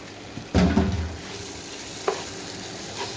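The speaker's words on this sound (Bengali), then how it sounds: "চাউলটা আমি 2 মিনিট ভাজবো।" Rice being fried in a pot with turmeric, chili powder and roasted cumin, a loud burst of sizzling as it hits the oil, then steady frying crackle with scraping stirs.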